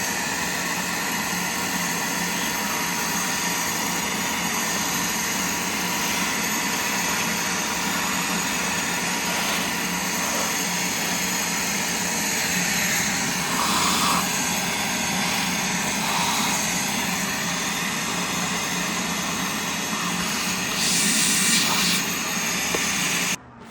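A vacuum cleaner runs continuously for the whole stretch, sucking debris out of a filthy old vacuum, with a steady loud roar and whine and small shifts in pitch as the nozzle moves.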